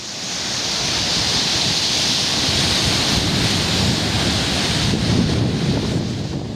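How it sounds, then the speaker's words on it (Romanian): Strong wind and rough sea waves on the coast of Crete roar as a loud, continuous broadband rush that swells slightly and never breaks into silence. "Vânt puternic, apa mării agitată."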